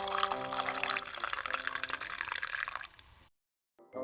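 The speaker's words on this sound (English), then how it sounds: "So they filled them to the top." Water is poured to fill large jars, a steady splashing trickle that fades out, then a short silence and a brief new splash.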